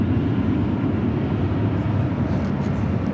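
A Boeing 777 airliner touching down on runway 24 Right at LAX gives a loud, steady, broad roar of engines and rushing air heard from nearby, with no talk.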